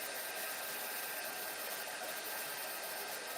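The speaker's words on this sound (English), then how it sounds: "I'm just going to quickly heat emboss this." A heat tool for heat embossing cardstock blows a steady, faint hiss and whir with no pauses. It runs alone and unbroken.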